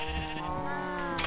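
Sheep in Minecraft bleat repeatedly while being sheared, a steady series of close, wavering cries with a brighter snip-like burst near the end.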